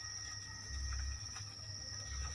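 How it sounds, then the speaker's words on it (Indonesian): Honey crickets (jangkrik madu) in a breeding box chirp in a continuous high, steady trill, faint and close, over a low intermittent background rumble. "Jangkrik madu."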